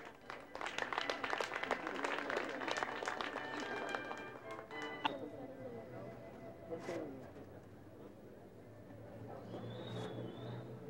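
Crowd applause for a couple at a mass wedding celebration, with brisk clapping from many hands for the first few seconds, then fading as a voice talks over a quieter room.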